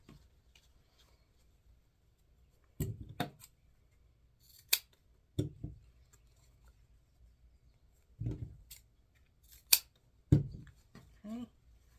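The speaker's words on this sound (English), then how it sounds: "Fold it in half, come down about 1 inch, and cut diagonally up to the open side." Scissors cutting mesh ribbon for a wreath bow: several quick, close snips in small clusters separated by pauses, fairly quiet, with faint handling rustle between cuts.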